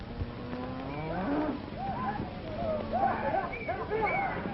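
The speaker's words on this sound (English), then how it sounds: "Bring those cattle back." A herd of cattle moo and low in a Western film scene, with several overlapping calls at moderate distance, mixed with voices and background action.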